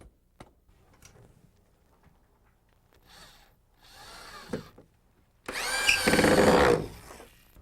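Screws are driven to fix 2x4 nailers to a roof truss on a porch build, with a short whirring burst from a power driver and a louder, longer run of whining at the end after a few quiet taps.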